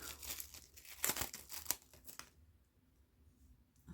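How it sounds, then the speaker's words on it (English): A plastic bag of jewellery beads is ripped open by hand, giving a few sharp, close tearing and crinkling bursts over about two seconds before the sound settles into quiet room tone. "And then I'll just have to rip the bag."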